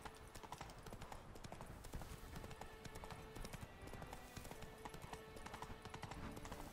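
In The Witcher 3, Geralt's horse Roach trots with a rapid, steady clip-clop of hooves, the quick even beats carrying on throughout at moderate volume.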